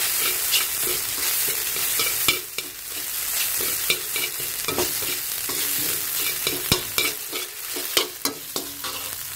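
Stink beans (sato) are stir-fried into Thai fried rice, a loud continuous sizzle punctuated by frequent clattering spatula strokes and scrapes against the pan.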